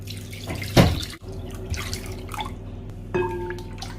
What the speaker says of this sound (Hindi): 15 मिनट हो गए तो अब मैं इसको धो लूंगा